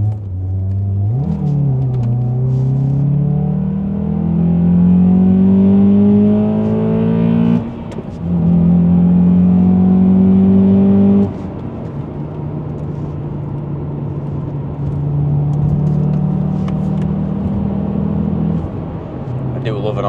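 A Honda Accord Type S engine with a new loud exhaust system revs and drones with a deep exhaust note, pitch rising and falling through gear changes, close and continuous.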